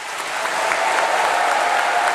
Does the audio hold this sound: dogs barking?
no